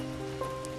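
Heavy downpour patters steadily and evenly throughout, a dense close wash of rain with faint tonal hum underneath.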